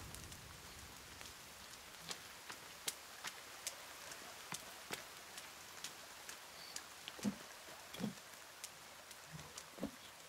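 Rain falls in the survival video game The Forest, a faint, continuous patter with scattered sharper drop taps and occasional soft thuds, quiet and without speech.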